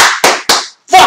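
Three sharp, loud hand claps in quick even succession, each ringing briefly, followed by the start of a shouted voice.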